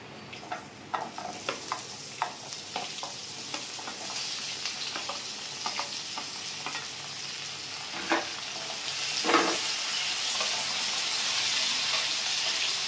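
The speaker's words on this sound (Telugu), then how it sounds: "ఇప్పుడు వంకాయ ముక్కలు కూడా వేసేసుకుందాము" Eggplant pieces tipped into a pan of frying onions and green chillies, sizzling steadily while a spoon scrapes and stirs in a quick series of clacks, then settling into an even hiss.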